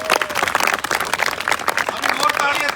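A loud burst of audience applause, dense clapping running throughout with a voice rising over it.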